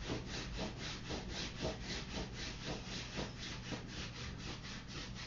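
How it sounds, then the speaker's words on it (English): Hands rub briskly up and down the hamstrings of the right leg, a steady close-up swishing friction that repeats in quick even strokes throughout, with no talking. "slowly come over to your right leg and begin to rub your hamstrings. Just rub up and down."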